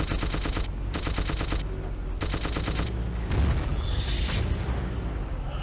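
Tank machine gun bursts and cannon booms in a Battlefield war game, loud rapid rattling fire in several sustained strings with heavy blasts, continuous and close.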